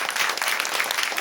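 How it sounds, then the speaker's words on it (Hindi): A church congregation at a Hindi prayer service claps loudly together, dense continuous applause filling the whole moment. "तो जोरदार तालियां बजा दीजिए।"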